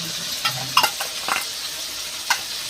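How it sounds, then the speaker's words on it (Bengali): Ginger paste frying with tomato in a pan gives a low sizzle broken by a few sharp spatula knocks and scrapes. "আবার ভালো করে ভেজে নেব আদাটা।"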